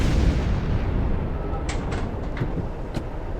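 A tank cannon in Battlefield Vietnam fires at a tree, giving a heavy, sustained roaring blast with broad rumble. A few sharp clanks and snaps sit on top of it.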